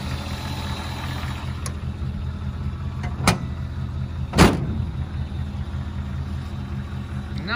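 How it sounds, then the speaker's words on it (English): An original 1957 Chevrolet Bel Air convertible engine idles with a steady low rumble, close by, broken by a couple of sharp clanks and a thump partway through. "What an absolutely sweetheart running motor."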